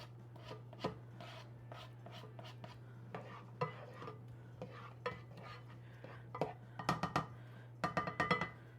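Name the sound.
stirring onions into melted butter in a pan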